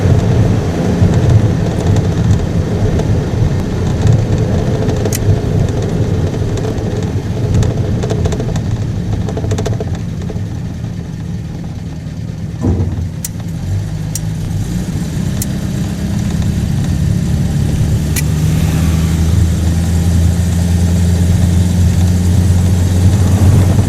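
Buick Roadmaster engine running as the car drives, a loud, deep rumble with road noise that dips briefly midway and then rises again with heavier low-end drone, steady throughout and with no voices.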